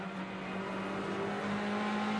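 Polestar Volvo S60 front-wheel-drive WTCC touring car in qualifying at Macau, engine held high in the rev range over undulating street circuit; a sustained buzzing engine whine with slight pitch shifts, no talking.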